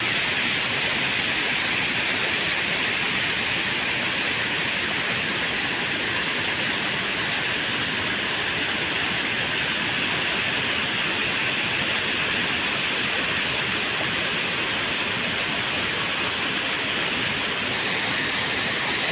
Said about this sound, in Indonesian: melihat air terjunnya atau air yang melewati damnya